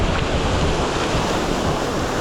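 A waterfall near small mountain towns outside Medellín, Colombia, gives off a steady broad rushing roar that continues evenly throughout, with no voices.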